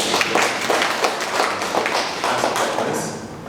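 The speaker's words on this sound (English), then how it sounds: "I would like us to appreciate the work that my colleague Brian has done by giving him a round of applause" A round of applause at an election observer workshop, with a room of people clapping steadily and fairly close for several seconds before it begins to fade.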